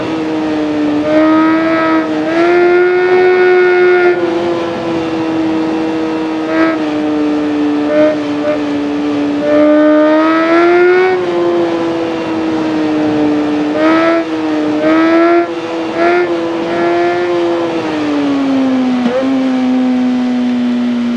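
A 2014 Suzuki GSX-R1000 One Million edition motorcycle engine in the racing game RIDE drones steadily throughout, its pitch rising and falling through repeated revs and gear-like shifts, fairly loud, with no talking.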